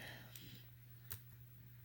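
A computer mouse clicks a few times, short sharp ticks spaced apart over a low steady hum, while someone opens a math assignment file on a computer.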